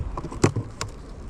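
Faint, low buzzing of bees in a weak, low-activity hive during a farm hive inspection, broken by a couple of brief knocks.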